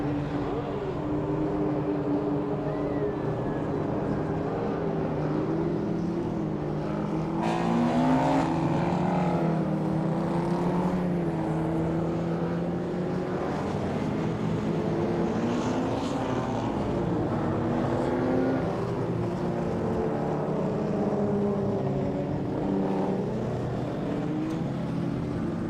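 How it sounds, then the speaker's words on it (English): Historic racing cars on a warm-up lap around a circuit, engines droning and shifting pitch continuously at moderate distance, several passing with rising and falling tones, no talk. "We've now got the cars going round for their warm-up lap"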